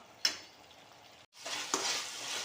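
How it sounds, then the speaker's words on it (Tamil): Onion and tomato sautéing in a pan for a fried sankara fish curry, a steady sizzle with two sharp stirring scrapes, close and alone with no talk. "பாருங்க தக்காளி வெங்காயம் எல்லாம் வதங்கு வதங்கிருக்கு"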